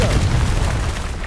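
A spell blast in a fantasy video game sounds as a single loud, deep boom that rumbles and decays over about a second, with no voices.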